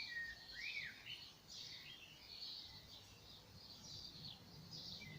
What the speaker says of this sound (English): Lots of birds out here today.